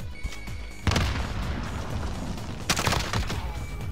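A grenade bursts in a tactical shooter game, followed by a second heavy blast and crackling bursts of gunfire, loud and close with little talk.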